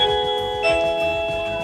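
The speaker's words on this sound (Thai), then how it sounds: "สมมติว่ามีคนมากดกระดิ่งนะครับแล้วก็เราอยู่ในบ้าน" Xiaomi Zero AI smart doorbell chime ringing inside a home, a steady, loud electronic tone sustained throughout with a brighter bell-like strike partway through, no voices.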